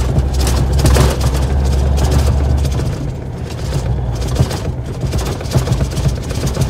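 An International cabover truck engine drones with a heavy, low rumble while riding, a steady close hum with mild fluctuations and some road and wind noise.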